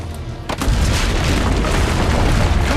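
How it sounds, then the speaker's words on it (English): Cannon fire in a video game sets off a heavy explosion: one sharp report, then a loud, sustained rumbling roar that fills the scene and does not let up. "Use the cannons above the rampart."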